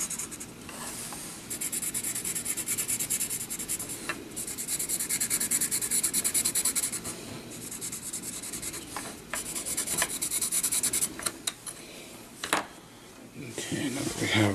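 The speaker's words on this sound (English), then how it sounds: "I'm going to kind of rub off the excess here" Rubbing excess finish off the body of a 1960s Silvertone 605 acoustic guitar produces close, steady scratchy strokes in uneven rhythm, with brief pauses between passes and faint talk in places.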